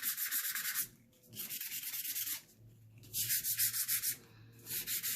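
Sandpaper lightly scuffing the top of a junk journal page, close raspy strokes in distinct bursts separated by short pauses, with no voices.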